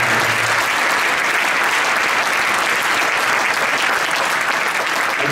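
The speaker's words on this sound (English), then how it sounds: "Can we give Chanel a big round of applause?" Concert audience at a high school pops and jazz show applauding a singer, a continuous, full wash of clapping from a large crowd, steady and loud throughout.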